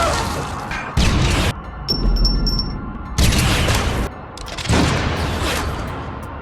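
Several loud, sharp gunshots burst out in separate blasts, with a brief high electronic beeping between them.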